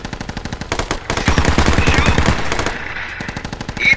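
Rapid machine-gun bursts fired at an enemy vehicle in the military shooter game Squad, loud and close, with dense repeated shots across the whole stretch and shouting voices over the gunfire.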